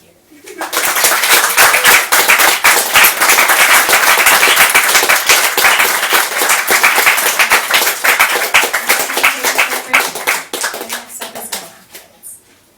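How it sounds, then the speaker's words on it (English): Audience applause after a reading at a university MFA event, dense sustained clapping that swells quickly, holds loud and close for several seconds, then thins out and fades. "Let's have one more round of applause for both Justin and Sarah."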